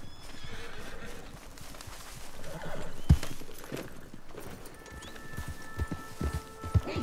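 Horse in the Red Dead Online game galloping with quick clip-clop hoofbeats and letting out whinnies, set against busy game ambience at moderate loudness with occasional sharp knocks and no talking.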